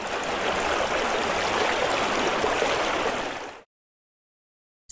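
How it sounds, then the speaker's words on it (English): River water rushes and gurgles in a loud, steady hiss for several seconds, then cuts off abruptly into silence. "and the water flowing in a river."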